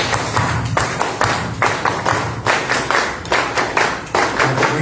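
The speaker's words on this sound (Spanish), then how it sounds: "Aquí pedimos un fuerte aplauso." Audience at a political gathering gives applause heard as loud, close, rhythmic clapping in steady unison bursts, almost like a beat, with no voices over it.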